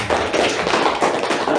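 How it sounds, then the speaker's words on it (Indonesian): A classroom group claps at the close of a peer-teaching session, a brief burst of dense, steady applause with no talking. "tepuk tangan buat yang"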